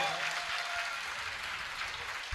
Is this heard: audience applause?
yes